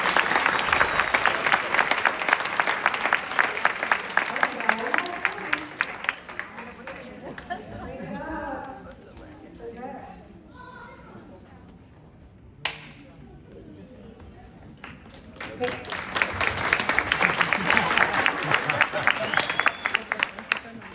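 Loud applause from a crowd at a middle school sixth grade awards ceremony, dense clapping that fades into a lull with murmured chatter midway, then swells again into strong clapping.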